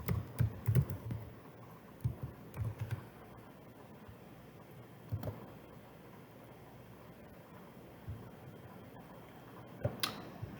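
Keystrokes on a computer keyboard come in short uneven bursts early on, then sparse isolated taps against a quiet room hiss, with a final cluster near the end.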